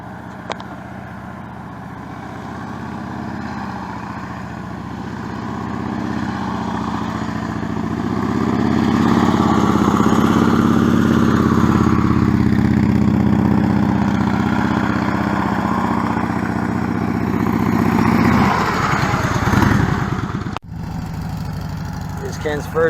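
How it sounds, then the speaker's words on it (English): Motorcycle engine running steadily through a Motor Officer offset cone weave practice course, the mid-pitched motor swelling slightly in places as the rider works the bike through the cones, with a brief drop near the end. "Ken's first try at the Motor Officer offset cone weave."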